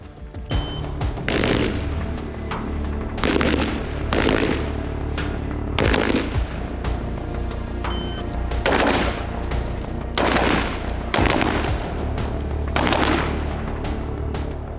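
Rifle shots fired through a Vortex LPVO scope, about nine loud, sharp reports spaced a second or two apart over a steady outdoor background, with no talking.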